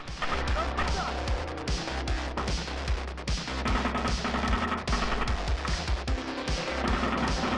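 Rifle gunfire crackles in close combat south of Toretsk, dense rapid shots and bursts hammering away continuously, loud and near throughout.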